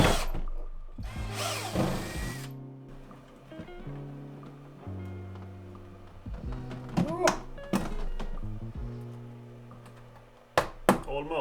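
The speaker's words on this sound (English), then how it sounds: "I will drill a 10mm hole down here." A power drill bores a 10mm hole through a homemade budget sandblasting box, its motor whining in steady bursts with pauses, clunks and knocks between runs, under a speaking voice.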